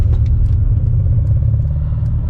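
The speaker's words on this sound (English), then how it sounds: "enable the sport mode and give the car some power" A 2023 Mercedes EQE 500 4MATIC electric SUV accelerates in sport mode, heard from inside as a loud, steady low rumble of road and drivetrain noise with faint hum and occasional light clatter, no talking.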